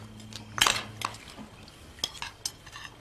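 A spoon scoops food into a dish, making scattered light clinks and scrapes of metal on crockery, fairly close and quiet, with no speech.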